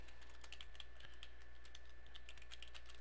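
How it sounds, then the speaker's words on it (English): Light typing on a computer keyboard, a quick run of soft key clicks, close and quiet over a low steady background hum. "type his name up here, email address"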